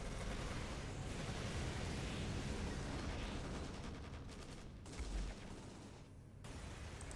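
Enemy soldiers firing in the World War II strategy game Codename: Panzers, a continuous dense clatter of distant gunfire and rumbling battle noise with a brief heavier thump near the end.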